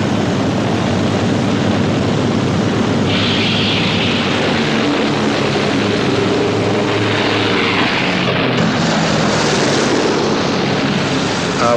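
Engines of World War II bomber planes rumbling before takeoff, a loud, dense, unbroken propeller drone that fills the whole stretch with a slight shift in pitch partway through.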